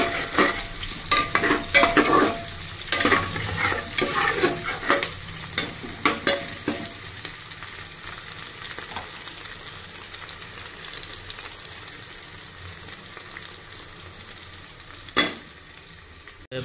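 Onion and green chili frying in a pan for palao, a close sizzle with busy stirring clatter in the first seconds, then a quieter steady hiss with one later scrape.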